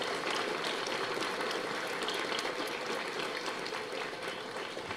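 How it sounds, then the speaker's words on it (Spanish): A crowd applauding at a parish gathering in Chivarabal village, Tecpán, a dense, even wash of clapping that holds steady from start to finish at moderate distance. "también es un fuerte aplauso"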